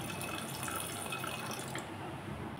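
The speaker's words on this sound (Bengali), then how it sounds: "আর একটু জল দিয়ে দিলাম।" Water poured steadily into a pot of lentils and jackfruit with turmeric and tomato, a continuous soft splashing trickle with faint drips, close and unaccompanied by talk.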